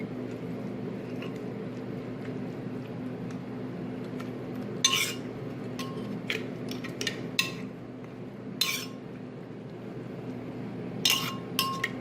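Dishes and cutlery clink lightly as mint and coriander chutney is served onto a plate in a home kitchen, with scattered taps and chinks over a steady low hum.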